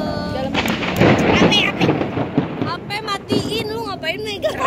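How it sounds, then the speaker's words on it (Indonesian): Thunder rumbles and cracks in heavy booming bursts, loud and close, mixed with people talking over it. "Ada geledek, nyambar-nyambar"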